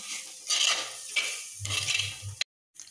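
Lemon pieces stirred in a frying pan for lemon pickle, giving a soft sizzle with scraping spoon strokes and a few low clunks against the pan, close up, followed by a brief silence.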